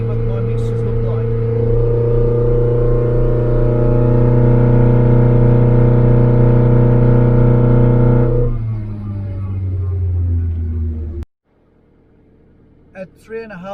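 A Datsun 1600 with an L20B engine and twin Weber carburetors holds a loud, steady droning rev under throttle for about eight seconds, then eases off and cuts to near silence, with a few faint knocks at the end.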